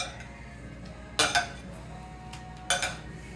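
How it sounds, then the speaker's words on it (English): Rutabaga pieces stirred in a pot, two short bursts of spoon clanking and scraping against the pot's metal side, close and moderately loud over quiet background hiss. "I'm gonna give it a little stir"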